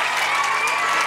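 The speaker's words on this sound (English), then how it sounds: "Give a big round of applause." An assembled school crowd applauds the flag at an Independence Day event, a loud, continuous roar of many hands clapping with a hint of cheering, sustained without a break.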